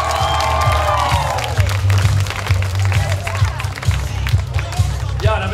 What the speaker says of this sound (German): Also, dann nochmal Beifall für euch.